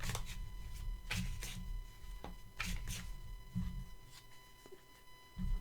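Playing cards being shuffled several times in quick riffling bursts, soft and close, over a steady low hum with no voices.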